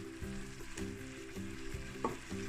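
Apples cook in a pan on a turned-down stove, a soft continuous sizzle close by, fairly quiet, with faint stirring and a low hum underneath and no talking.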